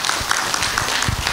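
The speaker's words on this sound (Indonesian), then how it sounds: "Tepuk tangan dong untuk semuanya." An audience at a seminar on career building and self-improvement claps in a brief burst of dense applause.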